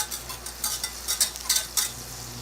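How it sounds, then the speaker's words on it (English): Four tablespoons of butter melt in a pan as the start of a cheese sauce, giving a faint, crackling sizzle with soft bursts of spattering over a quiet kitchen background and no voices. "1/4 cup, 4 tablespoons of real butter. We're gonna let this melt"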